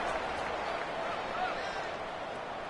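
A stadium crowd at a Tulane college football game sends up a steady, dense roar of cheering and noise at kickoff, broad and continuous with no single voice standing out.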